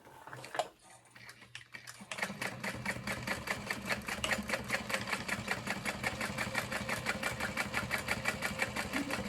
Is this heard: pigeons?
no